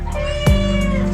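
A pet cat gives a single clear, close meow over a low background hum in a home kitchen.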